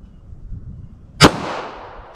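A single sharp 9mm pistol shot firing a Federal HST round into ballistic gel, loud and close, with a decaying echo tail and no talk.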